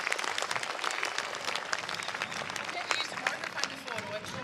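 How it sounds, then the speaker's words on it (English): Audience applause at a community unity event in Gympie, a dense steady patter of many hands clapping throughout with a murmur of crowd noise mixed in. "So big round of applause to Katie"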